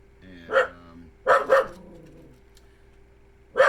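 A dog barks indoors in a home: a single bark, then two quick barks in succession, and another at the end, close and loud against a quiet background with a faint steady hum.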